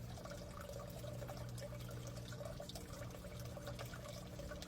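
Water in a solar-powered DIY aquaponics bed drains through a bell siphon, a steady, soft gurgling trickle with a low hum beneath, continuous and fairly faint, with no voices.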